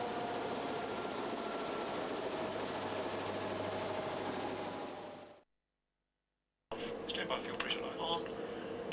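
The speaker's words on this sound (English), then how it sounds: "Carry out a motoring cycle until TOT, turbine outlet temperature, is below" A Saab 340A gas turbine engine on a motoring cycle gives a steady, dense broadband roar with a low drone for about five seconds, then cuts to silence before a similar whirring rumble returns with faint clicks.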